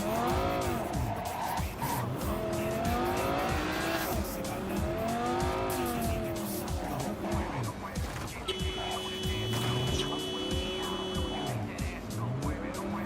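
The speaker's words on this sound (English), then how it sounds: "This car is crazy fast, man." Fast car driving in Cyberpunk 2077, engine revving with rising and falling pitch sweeps, continuous and loud, with tire squeal and skidding mixed in and a steady game sound layer near the end.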